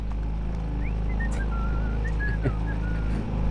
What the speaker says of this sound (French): C'est marrant, hein, chez les marins, cette manie de siffloter quand ils pilotent.